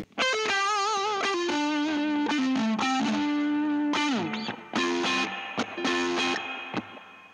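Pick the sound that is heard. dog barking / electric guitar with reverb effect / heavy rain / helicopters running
electric guitar with reverb effect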